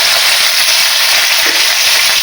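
Asafoetida, curry leaves and chilli pieces hitting hot oil give a loud, steady sizzle that fills the whole stretch without a break, close up and with no talking over it.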